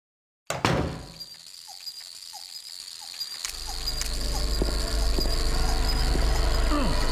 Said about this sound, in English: that sound is a bug